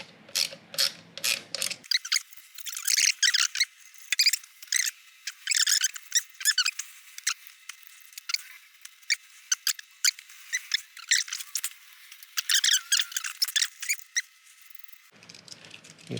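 Repeated ratcheting clicks from a socket wrench loosening the primary cover bolts on a 2018 Harley-Davidson Fat Bob Softail, close up and in quick bursts across the span.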